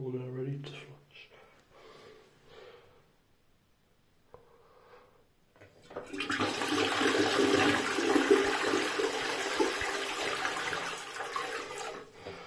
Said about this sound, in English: Flushes a bit weak and it looked a bit blocked as well.